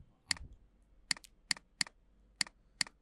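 Code being typed on a computer keyboard: six crisp, separate keystrokes at an uneven pace, close and clear against near silence.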